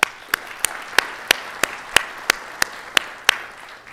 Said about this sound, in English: So a round of applause for them as well.